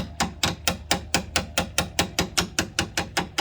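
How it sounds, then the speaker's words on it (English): Hammer tapping a shackle bolt on a lifted Astro van, about fifteen sharp metallic knocks in a quick, even rhythm, close and loud with no voices. "I'm tapping it, but you have to be careful about tapping it"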